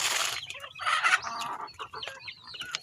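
Backyard chickens cluck nearby in short, irregular bursts, with busy, close, fairly soft bird chatter and no voices.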